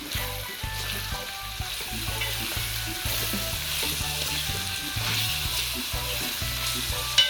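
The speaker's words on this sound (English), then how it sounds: "So now I'm gonna stir them around." Okra and saltfish with onion stirred and frying in a pan, a steady close sizzle with rhythmic scraping strokes of the utensil throughout, no voices.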